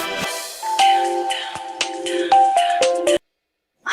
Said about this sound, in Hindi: रीना, कब से फोन लगा रही हूँ तुझे, कहाँ है तू?